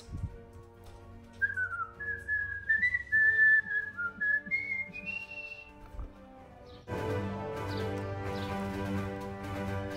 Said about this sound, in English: I can whistle through my ass.